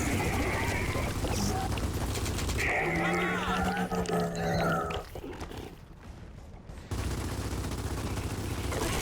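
Gears of War 4 combat fills the scene with dense gunfire and creature roars against a monstrous Snatcher, loud and continuous with a short dip before the shooting resumes, mixed with shouted voices.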